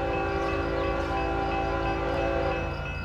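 A westbound Union Pacific mixed freight train with an ex-CNW AC44CW working as rear DPU rumbles past in Montour, Iowa, a steady loud roar of engines and rolling cars with a sustained horn-like tone throughout.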